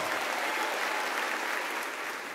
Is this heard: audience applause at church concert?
yes